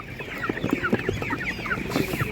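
Broiler chickens cluck at an outdoor animal market, a close cluster of short, repeated clucks and soft chirps in an uneven rhythm over quiet market background.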